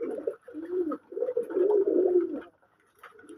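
Several pigeons crowd together to feed and coo close by, making repeated low, throaty coos in overlapping bursts, with a short quiet gap near the end and no talking.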